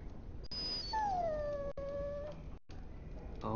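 A dog whines in the video game Dragon Age: Origins, letting out a high rising whimper and then a long falling, plaintive whine, with a short gap of silence before a brief final yelp.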